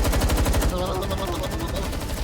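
Rapid gunfire in a Mario Kart animation, a dense, loud stream of machine-gun bursts filling the whole stretch with a continuous rattling texture, and other sound effects layered beneath.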